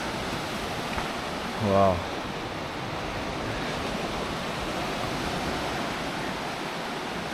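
Sea waves roll onto the Latvian coast in a steady, broad wash of surf that fills the whole stretch, with a single brief spoken exclamation early on.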